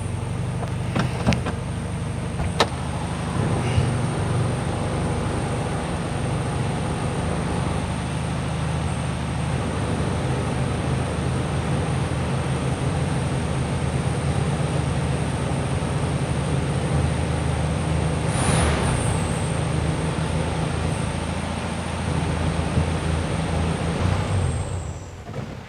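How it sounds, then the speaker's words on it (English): A 1973 VW Super Beetle idling and running with a noisy throwout bearing: a continuous low engine drone topped by a thin, steady high whine, near and unchanging, with a few sharp clicks early on. "That throw bearing is noisy."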